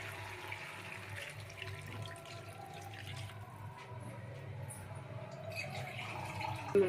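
Water pours steadily into a cooking pot of country chicken pulao for Sankranti, a continuous close splashing wash running throughout with a slight rise near the end.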